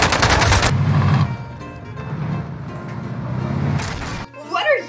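Bursts of Magnum gunfire in the Warzone video game: loud, close, rapid shots at the start, then softer repeated fire under game noise, and another burst near the end.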